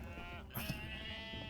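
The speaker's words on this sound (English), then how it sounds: "All right, more sheep." Sheep bleat in the video game Unmetal, a few close, clear bleats near the middle over steady game music and background sound.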